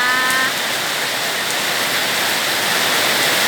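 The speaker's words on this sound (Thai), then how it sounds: "คลิปนี้ก็เอาบรรยากาศฝนตกเนาะค่ะเนาะ ตก มาให้รับชมนะคะ" Rain falling steadily outdoors, a loud, continuous, even hiss of dense drops with no talk and a few faint brief tones near the start.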